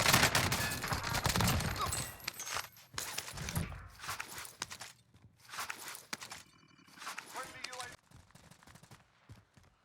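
Rapid bursts of automatic gunfire crackle through a Warzone battle royale match, mixed with footsteps and scattered shots, loud up front and then trailing off into sparser volleys.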